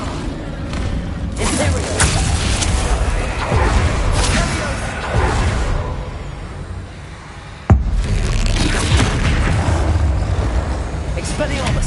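Bombarda spell explosions crack through a Hogwarts Legacy battle on PS5, with heavy rumbling blasts and whooshes running almost continuously and one sharp, loud hit near the end.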